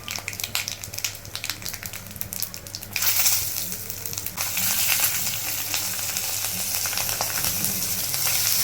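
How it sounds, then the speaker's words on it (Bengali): Cumin, nigella seeds, dried red chilies and green chilies frying in hot oil for a spinach and rohu fish dish, a steady crackling sizzle that jumps louder after about three seconds and stays dense and close with no talk. "বাকি তেলে জিরে, কালো জিরে, শুকনো লঙ্কা ফোড়ন দিয়ে এর মধ্যে কাঁচা লঙ্কা দিয়ে দিয়েছি"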